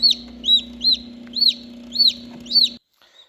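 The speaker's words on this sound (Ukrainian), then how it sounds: "через 21 день у нас починають лупитися курчатка" Newly hatched chicks from an incubator peep in high, shrill chirps, about six evenly spaced calls close by over a steady low hum.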